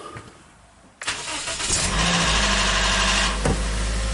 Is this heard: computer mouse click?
no